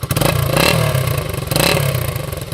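A 1973 Honda SL125S motorcycle idles and blips through its original exhaust, a loud, close, choppy single-cylinder putter rising in two short revs before settling back, with no voices.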